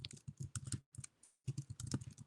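Bursts of quick keystrokes on a computer keyboard, clicking in short runs with a brief pause midway, close and clear with no talking.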